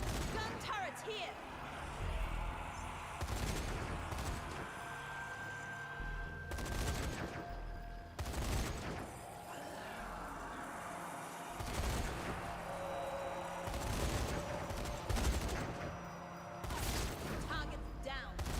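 Gun turrets fire in Zombie Army 4: Dead War, sharp repeated bursts of gunfire striking at irregular intervals across the stretch, with game voices and background sound running underneath.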